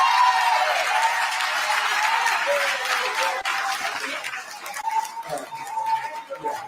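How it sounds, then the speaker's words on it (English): A crowd of Dalton residents and trustees applauds Mayor Lightfoot at a public meeting. The clapping is dense and steady at first, then thins into scattered claps with some murmuring toward the end. "we want to ask everybody to give a round of applause to Mayor Lightfoot"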